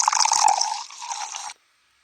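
A drink poured from a bottle into a glass makes a bright, close gurgling splash that rises in pitch as the glass fills, then cuts off abruptly into silence.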